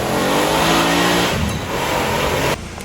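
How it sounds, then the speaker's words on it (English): An LS-swapped Lexus LX 450 revs hard at an off-road park, a loud, steady engine roar with a low growl that eases slightly partway through and drops off abruptly near the end. "This is a Lexus what? LX 450. LX 450. But it's been LS swapped."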